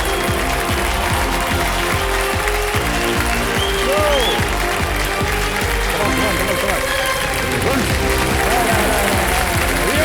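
A studio audience on a TV quiz show claps in continuous, energetic applause that fills the room. A host talks over it and music plays underneath.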